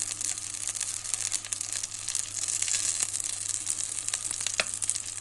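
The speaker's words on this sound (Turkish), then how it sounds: "Ee, yağımızı kavuruyoruz." Oil sizzling and frying in a hot pan in a home kitchen while making sulu köfte, a steady crackling hiss with scattered sharper pops, close and continuous, no voices.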